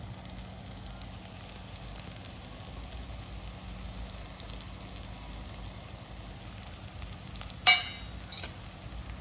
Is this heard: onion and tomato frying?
yes